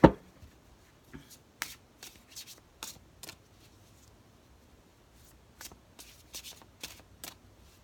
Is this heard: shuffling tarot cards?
yes